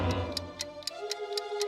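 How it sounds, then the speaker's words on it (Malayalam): A cartoon time bomb ticking: crisp, evenly spaced ticks about four per second, close and clear over a fading musical tone, with no voices. "ഇതിന്നെന്താ ടിക് ടിക് ടിക് ശബ്ദം വരുന്നേ?"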